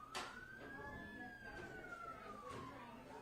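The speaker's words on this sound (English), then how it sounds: "Sirens everywhere." A single emergency siren wails outside, rising and then slowly falling in pitch. It stays faint and distant under a muffled background with occasional knocks.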